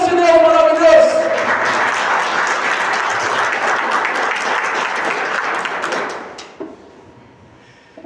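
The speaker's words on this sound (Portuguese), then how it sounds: "aplauda bem forte esse Deus maravilhoso" A Catholic congregation at a charismatic preaching event bursts into loud, sustained applause that fills the hall for about six seconds, with a voice audible at the start, then fades into scattered claps and room noise.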